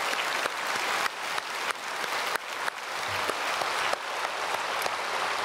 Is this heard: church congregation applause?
yes